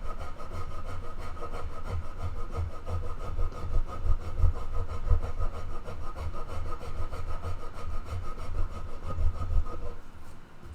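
Hand sanding across a wooden guitar body that is being prepared for paint, giving a steady run of raspy back-and-forth strokes. The scraping is close, fairly loud and continuous, with no talking over it.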